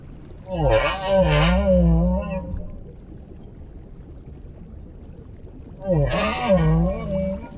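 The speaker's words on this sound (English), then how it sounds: "The humpback song is a powerful form of communication." Humpback whale song underwater: two loud, wavering moaning calls, the first stretching over about two seconds, then a quiet gap before a second similar call returns.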